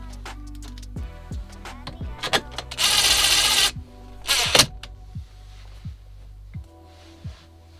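A power screwdriver drives two screws while a car radio goes into a Honda Element: two short, close whirring bursts, the first longer, over a steady low background hum with faint clicks.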